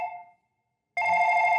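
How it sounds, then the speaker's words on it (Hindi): An electronic phone ring sounds in two bursts, a short one then a longer sustained trill after a brief silence. "हिटलर का फोन बज रहा है।"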